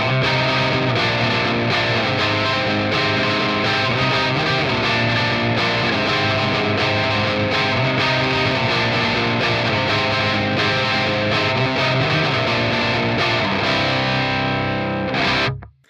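Electric guitar through a Victory Kraken amplifier set for a loose, crunchy distortion rather than a tight metal tone, loud chords and riffs played continuously before ringing out and cutting off at the end.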